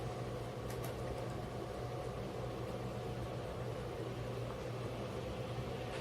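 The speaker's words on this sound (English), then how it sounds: "The other fan noise you're hearing is the big air conditioner." A large air conditioner fan runs steadily in a Florida room, a constant broadband whoosh with a low hum, unbroken and even throughout.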